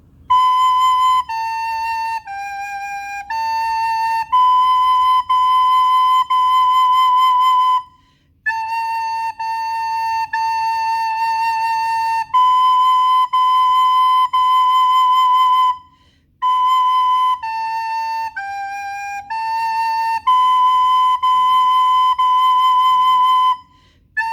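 A recorder plays a clear, sustained stepwise melody of held notes in several phrases, separated by short pauses, with no voices.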